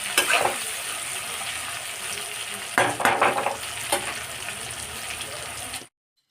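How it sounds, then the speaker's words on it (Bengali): Bitter gourd pieces sizzle steadily in hot oil in a pan while being fried for a Bengali shukto, a constant crackling hiss with a few louder stirring bursts, no voices, before it cuts off abruptly. "এখানে দেখুন আমার উচ্ছেগুলো লাল লাল করে ভাজা হয়ে গেছে"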